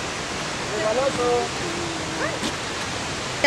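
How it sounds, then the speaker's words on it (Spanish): Waterfall at Huilo Huilo in southern Chile, a steady broad rush of falling water heard from some distance, with faint brief tones and a person speaking softly over it. "ya se empieza a escuchar la caída de agua"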